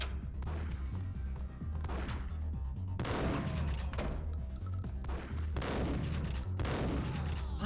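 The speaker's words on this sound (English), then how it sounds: "The shotgun is just that good." Heavy shotgun blasts from Max Payne fire as several loud, separate booms over a steady low rumble of game background noise.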